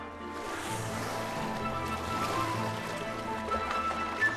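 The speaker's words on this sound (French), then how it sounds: "Le clapotis de l'eau semble les attirer." Soft water lapping and sloshing against a boat hull, a steady gentle wash with a low engine-like hum underneath.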